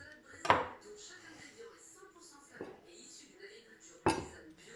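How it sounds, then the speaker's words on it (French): A knife cuts squash into cubes on a board: three sharp, distinct chops spaced a couple of seconds apart, close and crisp, with faint talk in between. "La courge, vous la découpez en cubes comme ceci, de cette manière-là"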